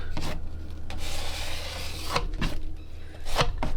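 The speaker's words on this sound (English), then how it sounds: "Scrape up some of this excess." A tool scrapes excess paint off a fluid art pour in short, rough rubbing strokes, close and fairly loud, with brief pauses between passes.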